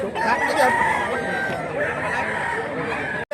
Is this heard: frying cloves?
no